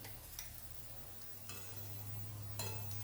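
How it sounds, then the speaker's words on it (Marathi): Spice paste fries in oil in a pan, a soft continuous sizzle with a few brief stirring clicks and scrapes, quiet and close, with no talk. "हे वाटण आपण असं तेलात चांगलं परतून घेणार आहोत"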